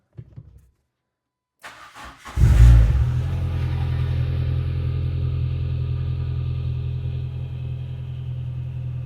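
A click, then a Renault Clio 172 engine cranking and catching, revving briefly before settling into a steady idle rumble with a faint whine from a noisy power steering pump over it.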